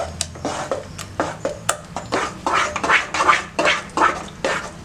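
A utensil scrapes and knocks against a pan as ground halwa paste is stirred continuously, a steady rhythm of close, distinct scraping strokes roughly twice a second.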